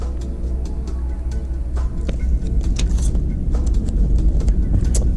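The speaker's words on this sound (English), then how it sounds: "Entity wheels roll for a while" Entity skateboard wheels on Leefai trucks rolling along pavement, a continuous low rumble with scattered clicks and ticks from cracks in the ground, steady and close.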